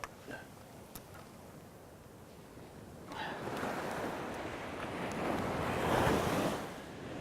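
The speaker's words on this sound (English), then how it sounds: "Let the waves wash that fish in for you." Ocean waves break and wash up a beach on the east coast of Australia during surf fishing, a rolling roar that swells from a quiet hiss to a loud crash, with wind buffeting the microphone.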